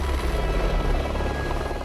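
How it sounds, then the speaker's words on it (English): A helicopter hovers over a high Alpine mountain summit, its rotor and engine a steady, dense roar that fills the whole stretch with no break and no voices. "since there are no level areas up here, the helicopter can't land, so we have to jump out while it is hovering"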